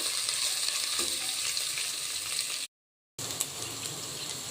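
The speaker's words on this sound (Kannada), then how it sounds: "2-3 ಈರುಳ್ಳಿ ಕಟ್ ಮಾಡ್ಕೊಂಡ್ರೆ ಉದ್ದಕ್ಕೆ ಕಟ್ ಮಾಡ್ಕೊಂಡ್ರೆ ಹಾಕ್ಕೊಳ್ಳೋಣ. ಇದನ್ನೆಲ್ಲ ಚೆನ್ನಾಗಿ ಫ್ರೈ ಮಾಡ್ಕೊಳ್ಳೋಣ" Two or three lengthwise-cut onions fry in oil with chopped greens, making a steady, even sizzle with light stirring, cut off briefly by a moment of silence before the frying resumes.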